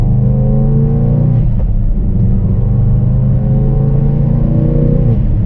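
A car engine with its exhaust valve held open revs and drones loudly and steadily, with a rough rumbling tone that swells and eases slightly, close by with no talking.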